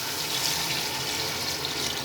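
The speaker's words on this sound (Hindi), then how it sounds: "इसमें थोड़ा सा पानी ऐड करते हैं ज़रूरत के मुताबिक" Water being poured into a pot of lobia gosht, white beans cooking with chicken, a steady, even rush of running water lasting a couple of seconds, close and moderately loud.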